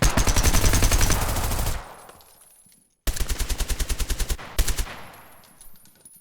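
Rapid automatic gunfire bursts from the video game Zero Hour, a dense stretch of shooting that cuts off, then a second run of evenly spaced shots followed by a sharp louder blast and fading tail; no talk.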